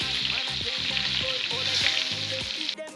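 Rump steak fries in oil in a pan with a loud, steady, crackling sizzle throughout. A brief clatter comes at the end.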